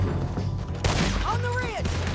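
Rifle and pistol fire crack through a gunfight in Red Dead Redemption 2, a loud burst of shots near the middle amid shouting voices and distant rumbling echoes.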